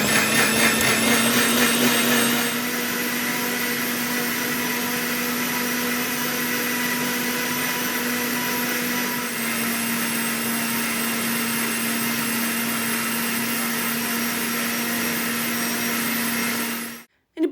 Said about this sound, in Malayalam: ഇതാ ഞാൻ തേങ്ങയും കൂടി അരക്കാൻ വെച്ച് കൊടുക്കുന്നുണ്ട്